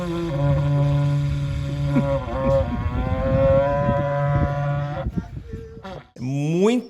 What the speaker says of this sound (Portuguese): Munhoz chamando o Fusca com berrante